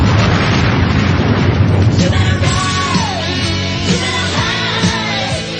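A loud, rumbling explosion fills the sound, followed by crackling debris and a falling whistle-like tone, dense and close.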